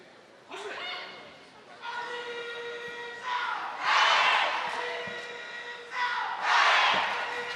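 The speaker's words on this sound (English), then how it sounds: "Just hear the crowd getting behind Alisa Buschinger, taking advantage of the home advantage." Home crowd at the Karate-1 Premier League finals in Salzburg 2016 roars in two swelling bursts during a close final bout, under continuous commentary.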